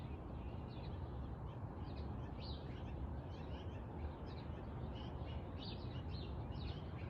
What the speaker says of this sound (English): Listen to those birds singing the Creator's song.